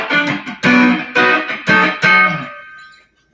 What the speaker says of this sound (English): So let's kick off the fuzz, go to the drive side real quick.